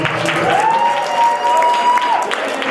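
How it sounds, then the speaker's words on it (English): A comedy club crowd at a stand-up show breaks into loud, sustained applause with some cheering, while a thin steady whistle-like tone rings through the middle of the clapping. "Give a round of applause."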